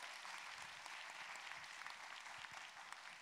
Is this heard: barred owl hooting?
no